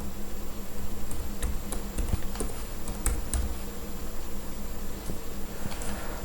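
Computer keyboard typing a product description during bill data entry in Microsoft Excel: sparse, irregular soft key clicks over a steady background hum, with no one speaking.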